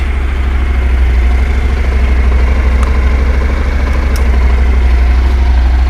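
A Honda NC700X motorcycle engine runs steadily at idle, a loud, close, even low rumble throughout with no revving and a couple of faint clicks on top, no talk.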